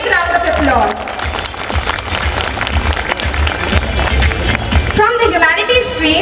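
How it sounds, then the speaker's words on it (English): Loud, sustained audience applause at a school annual function award ceremony, a steady wash of many hands clapping, with crowd noise and a voice coming in near the end. "Dear audience, please praise her excellence with a big round of applause."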